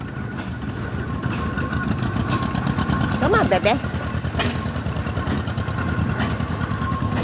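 A small propane-powered engine on a little truck at a show chugs steadily with a rapid pulsing beat, close and continuous, while a person speaks briefly over it.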